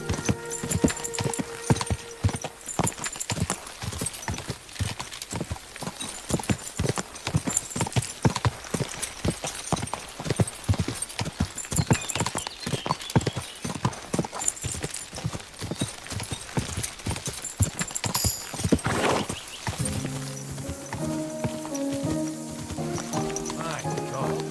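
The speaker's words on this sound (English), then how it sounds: "My God, that looks like a bloody expensive horse." Horse hooves clip-clop steadily at a brisk, rhythmic pace in the medieval game Kingdom Come Deliverance 2, loud and continuous, with game voices and sounds over them, shifting to a calmer mix near the end.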